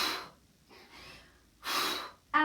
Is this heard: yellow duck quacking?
no